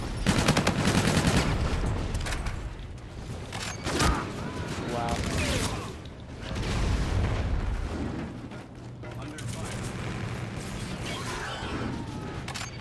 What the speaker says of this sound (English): I shot you four fucking times